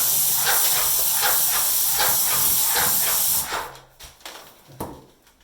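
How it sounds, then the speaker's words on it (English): A Wagner Titan Speed Shield airless paint sprayer spraying, a loud, close, continuous hiss pulsing slightly as the gun sweeps, which cuts off partway and is followed by a few short bursts. "So I'm going to move and then start spraying."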